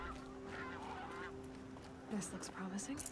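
A goose in the video game Horizon Zero Dawn honks a few times near the end, short nasal calls over a steady low game ambience hum.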